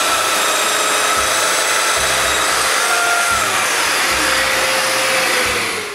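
A Festool-style domino joiner cuts mortises in wood with a loud, close, continuous high whine, with brief plunging surges and pulses in the low end, and no voices.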